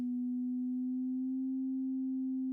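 A subtractive synth holds one pure, steady tone with its fine tuning nudged, so the pitch drifts very slightly while the note sustains evenly and alone.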